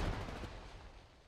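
A grenade explodes in the Apex Legends video game, its broad rumbling blast already decaying from the start and fading steadily over about a second before a sharp, brief click at the very end.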